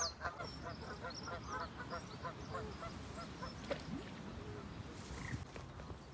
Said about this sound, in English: the Canadian geese over there, they're giving it the large one